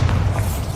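A Bombarda explosion spell in Hogwarts Legacy, a short, heavy boom with a deep low rumble lasting under a second.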